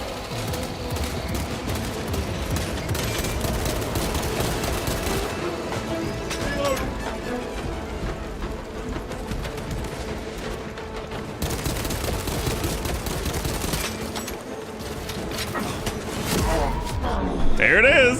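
Gatling gun fire in a video game pours out as a loud, continuous hail of rapid shots across the whole stretch, with bursts, impacts and a voice talking over the barrage.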